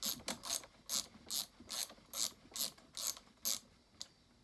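A ratchet tightens bolts on a Partner 7000 Plus carburetor with about ten crisp, evenly spaced clicking bursts, close and alone, the last one weaker.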